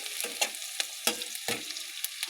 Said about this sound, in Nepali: प्याजलाई फ्राई गरेर रातो बनाउनु पर्छ साथीहरू